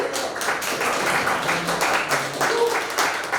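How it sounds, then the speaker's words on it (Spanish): An audience at an academic conference on artificial intelligence in the classroom applauds a guest speaker with steady, sustained clapping from many hands across the room. A faint voice surfaces briefly in the middle of the applause. "Recibamos con fuerte aplauso a nuestro invitado, Lenin Baca,"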